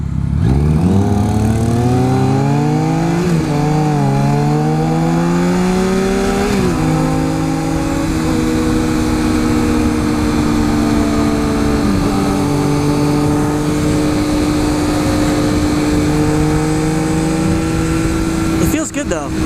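A Triumph Speed Triple motorcycle pulls away from a standstill, its engine note climbing in pitch through the revs, then settling into a steady, loud drone over constant wind rumble.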